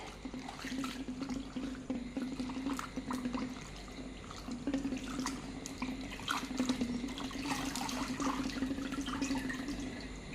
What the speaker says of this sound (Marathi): मी याला आता छान धुवून घेत आहे